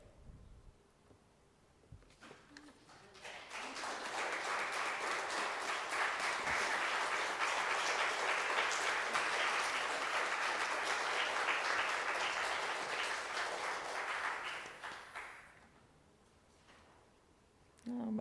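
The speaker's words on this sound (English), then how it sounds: "Can we get one more round of applause for our incredible worship leader today?" An audience at a worship gathering breaks into sustained applause, swelling quickly and holding steady for around twelve seconds before fading out, with quieter room sound before and after.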